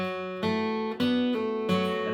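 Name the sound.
acoustic guitar playing bluegrass C measure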